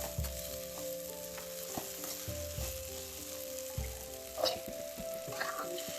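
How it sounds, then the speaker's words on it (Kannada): Green chillies frying in hot oil with a steady close sizzle, punctuated by stirring scrapes and clinks. "ಈಗ ಹಸಿಮೆಣಸಿನಕಾಯಿ ಹಾಕ್ತಿದ್ದೀನಿ. ಈಗ ಹಸಿ ಅಂಶ ಹೋಗೋವರೆಗೂ ಎಣ್ಣೆಯಲ್ಲಿ ಹುರ್ತೀವಿ."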